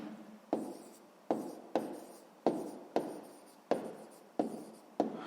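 Pen writing down a math answer on paper, heard as seven or so evenly spaced scratchy strokes, each starting sharply and trailing off, faint and close with no talking.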